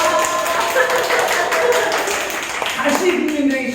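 Audience members at a political talk clap in a scattered, uneven rhythm, moderately loud, mixed with some voices in the room.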